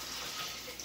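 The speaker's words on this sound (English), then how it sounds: "pour the water from my tiger nut." Soaking water is poured off tiger nuts through a strainer, a brief, close splashing trickle of liquid running steadily for under a second, with no voices.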